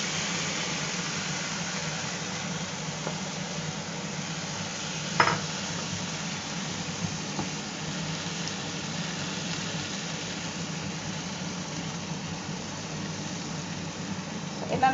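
Onion and tomato masala fries in a pan and is stirred, giving a steady close sizzle with a few faint scrapes of the spoon.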